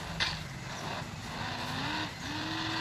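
Engine of a powerful diesel vehicle in the mobile game Hill Climb Racing: a steady motor drone that rises in pitch around midway and again near the end, as if revving under acceleration, with a brief skid-like hiss early on.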